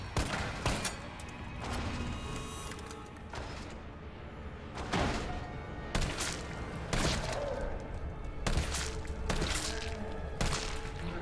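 Rifle and handgun shots ring out in Resident Evil 3 as Carlos fires, a series of sharp, loud bursts spaced irregularly, some in quick clusters, with no talk over them.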